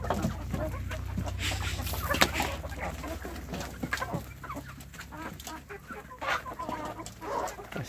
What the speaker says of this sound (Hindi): बड़ा मुर्गा है ये मेरा।